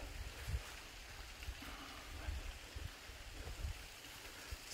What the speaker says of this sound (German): Da unten der Bach.